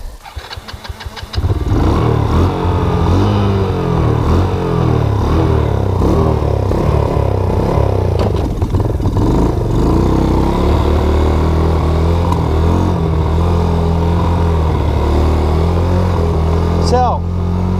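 A Baja Wilderness 90 ATV engine starts up and runs loud and steady close by, a rough continuous rumble that holds throughout with little change.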